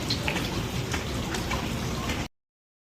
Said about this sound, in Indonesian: Hujan dari sore belum berhenti.